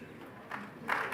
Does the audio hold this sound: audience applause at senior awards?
yes